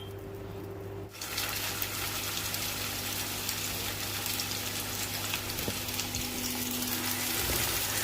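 Potato chapli kababs sizzle in a frying pan with a little oil, a steady hissing crackle that starts abruptly and continues close and even.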